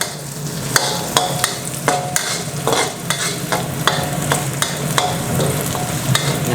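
Fresh chillies are stir-fried in oil for a spicy field rat curry, a constant close sizzle broken by repeated scraping stirs of a utensil against the pan.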